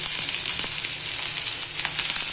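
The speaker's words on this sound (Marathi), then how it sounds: "हा याचा मसाला भाजून घेते।" Masala for matki misal roasting in a hot pan, a steady close sizzle with faint scraping stir sounds, no talking.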